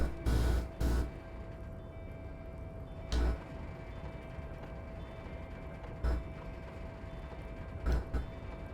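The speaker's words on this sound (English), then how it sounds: "With a loud grind, the crane shifts overhead, moving a massive metal container through the air." A crane in the Disco Elysium game grinds overhead as it moves a massive metal container. The soundtrack is a low, faint mechanical drone with a steady hum, broken by a few heavy clunks and thuds at irregular intervals.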